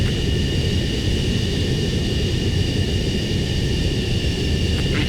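A jet fighter on landing approach in Ace Combat 7, heard as a loud, unbroken engine rush and whine that stays constant, close and steady with no speech.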